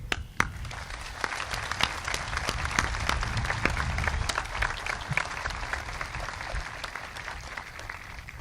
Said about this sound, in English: join us in applauding these professionals, our teachers and staff